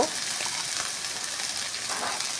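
Chopped green chillies, cumin powder, turmeric and salt fry in a pan for a Bengali potato and pointed gourd chochchori, making a steady, even sizzle that runs unbroken throughout.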